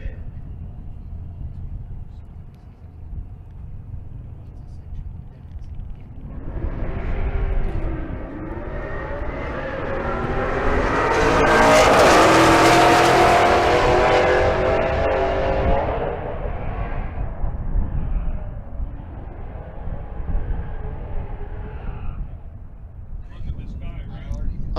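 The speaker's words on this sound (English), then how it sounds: "Dan Gosha pulls up in the 4th Gen Firebird in the left lane. 4th Gen Camaro in the right lane" Drag race at Bandimere between a 4th Gen Firebird and a 4th Gen Camaro, two V8 engines roaring down the strip, swelling to a loud peak mid-pass and then fading into the distance, with wind noise and a commentator talking over it.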